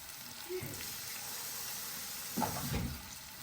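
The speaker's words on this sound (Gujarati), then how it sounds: "હવે આપણે થોડું પાણી એડ કરીશું" Steady sizzling of cluster beans frying in a hot pan, with a brief splash of water poured in partway through and a louder hiss as it hits the oil.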